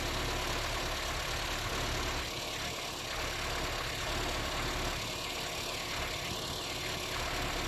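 Austin Allegro engine idling steadily with a slightly hesitant, uneven note, a continuous close running sound with faint rattly bursts on top and no talk.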